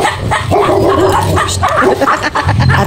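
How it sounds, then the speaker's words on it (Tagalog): Large dogs bark loudly and repeatedly in a close, overlapping flurry of deep woofs and yips, with a person's voice mixed in. "Ay, ang lalaki ng aso!"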